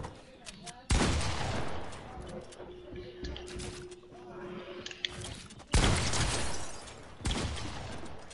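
Rapid bursts of gunfire in the video game Fortnite, with loud volleys crashing in near the start and again near the end, voices speaking over parts of the shooting.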